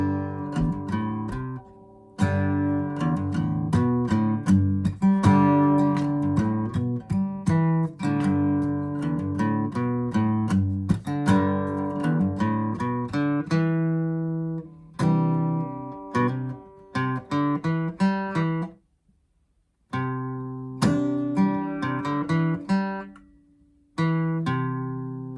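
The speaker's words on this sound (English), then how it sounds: "You can hear how the pentatonic scale, it's drawing you into the G." Notes of a G pentatonic scale picked and strummed on an instrument, a busy run of plucked tones and chords with brief pauses near the end, played alone without talk.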